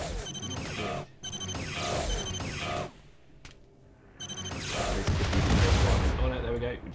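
Colonists in RimWorld open fire on a shield generator, sustained bursts of rapid gunfire in two long volleys separated by a brief lull, loud and close.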